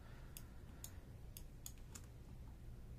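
Quiet computer keys and mouse buttons clicking in a sparse run of about five crisp ticks over a steady low background hum, with no voice.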